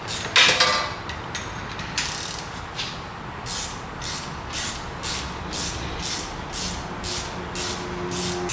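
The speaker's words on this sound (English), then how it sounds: "And that 4th one, you get with a wrench through the caliper area." A hand wrench ratchets a chunky caliper-area bolt on a Ford Explorer during wheel bearing work, giving a loud initial clank and then a steady run of about a dozen rhythmic clicks, close up with no talk.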